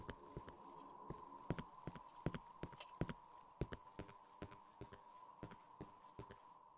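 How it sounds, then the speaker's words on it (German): Regular, fairly sharp footfalls from the Cry of Fear horror video game, stepping at a steady walking pace over a constant droning tone, with no talk over them. "Ich höre Schritte und es sind nicht meine."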